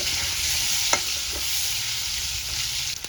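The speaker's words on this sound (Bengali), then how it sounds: "আলুগুলো নুন দিয়ে সিদ্ধ করে রেখেছিলাম ওটা ভেজে নেব" Salt-boiled potatoes frying in oil with turmeric, a dense steady sizzle with a couple of brief spatula scrapes as they are stirred, close and even throughout.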